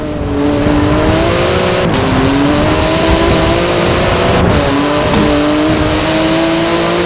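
Porsche 911 GT2 RS race car engine revving in Forza Horizon 4, a loud continuous roar with rising and falling pitch as it shifts through gears, sustained throughout without talk.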